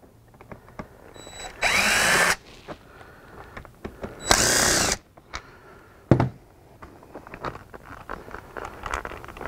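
Power screwdriver backing out Phillips screws from the seat control panel of a C5 Corvette, two sustained whirring bursts a few seconds apart, followed by a sharp clack and light handling taps, close and fairly loud.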